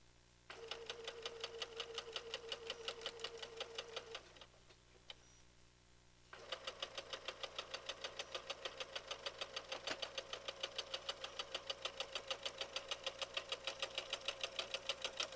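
A sewing machine stitches two quilt pieces together in steady rapid needle strokes, with a short pause around four seconds before the even mechanical rattle resumes and runs to the end, close and clear.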